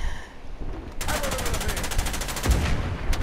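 Rapid automatic gunfire rattles in a steady burst through a firefight in Uncharted 4, with a fresh volley of shots near the end, all loud and close.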